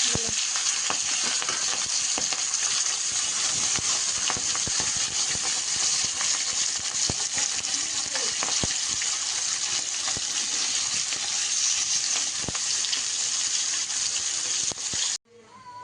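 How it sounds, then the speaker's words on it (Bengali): Steady, loud sizzling and crackling of fish frying in hot oil, continuing without pause until it cuts off abruptly at the end. "তেলটা গরম হয়ে গেছে দিয়ে দেবো মাছ"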